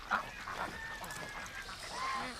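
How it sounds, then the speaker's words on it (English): Geese honk outdoors near water, giving a few short nasal calls over steady background noise, moderately close and not very loud. "Geese like to drink water too."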